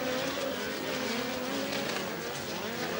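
Dirt midget race cars on hot laps at Paragon Speedway, a steady loud roar of several engines filling the whole stretch, with no talk over it.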